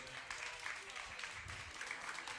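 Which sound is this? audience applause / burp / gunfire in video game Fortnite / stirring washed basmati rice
audience applause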